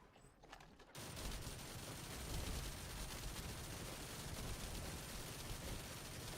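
Rapid video game gunfire from a Cavalry Gun erupts after a brief quiet second, then rattles on in a dense, loud, continuous burst of overlapping shots that lasts for several seconds.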